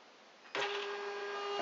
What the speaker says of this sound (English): this file will be sent through the print server to the printer